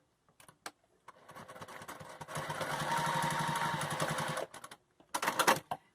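Sewing machine back-stitching a seam on a cloth face mask: a few soft clicks, then a continuous mechanical whir for about three seconds, a pause, and a final short burst of stitching, close and quiet.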